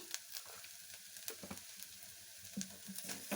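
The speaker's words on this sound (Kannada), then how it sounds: "ಚೆನ್ನಾಗಿ ಫ್ರೈ ಮಾಡಿ." Spices and turmeric powder frying for pepper rasam, a faint, close crackling sizzle with occasional stirring scrapes and soft clicks.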